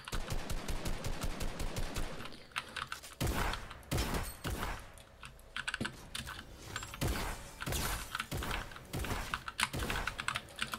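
Rapid bursts of gunfire from an online multiplayer shooter game, dense and loud, firing in quick repeated volleys with short gaps, overlapping one another with no talk.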